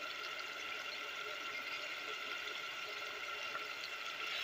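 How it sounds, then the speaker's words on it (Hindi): Water is poured into a pan of frying spices, chili, ginger and garlic paste for turnip and meat curry, giving a steady hissing sizzle that stays even and close for the whole stretch. "हम इसमें थोड़ा सा पानी ऐड कर देंगे ताकि मसालों की भुनाई अच्छे से हो जाए।"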